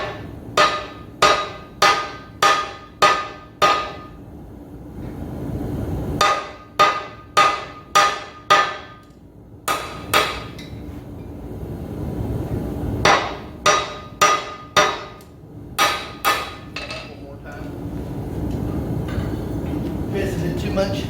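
Hand hammer striking hot metal on the horn of a blacksmith's anvil, ringing in quick bursts of four to six sharp blows separated by short pauses, loud and close, with a low steady hum of the forge setting beneath.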